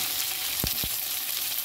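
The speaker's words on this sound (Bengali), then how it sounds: "কচু আলু ভেজে নেব" Pieces of taro and potato frying over low flame in a pan, a constant close hiss of oil with two short knocks of utensil stirring partway through.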